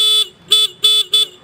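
A car horn, just adjusted to sound louder, gives four loud close honks, the first long and the next three shorter and evenly spaced, each a bright buzzing tone.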